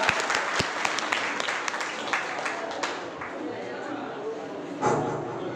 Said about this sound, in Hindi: एक बार जोरदार तालियों से इनका स्वागत चाहूंगा।